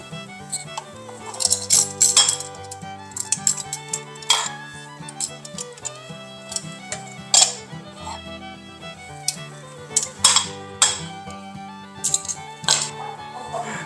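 A metal lid clatters onto a cooking pot in a home kitchen, with several sharp clinks and knocks of cookware spread through the stretch over a steady background, fairly close and moderately loud.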